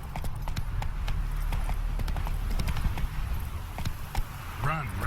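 Roach, the horse in The Witcher 3 video game, gallops with fast, steady clip-clopping hoofbeats up close, and a brief whinny near the end.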